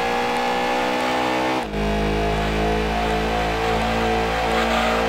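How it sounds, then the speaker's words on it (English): A loud, gritty Lancia Stratos rally car engine in Gran Turismo 2 drones steadily with harmonic overtones, briefly cutting out before roaring back and holding a rough, continuous note. "The engine on this thing just sounds dirty. It sounds so good."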